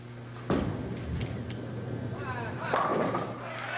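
A bowling ball lands with a thud on the lane at the 1978 Miller High Life Open pro tournament. It rolls for about two seconds and then crashes into the pins, over a faint hall murmur.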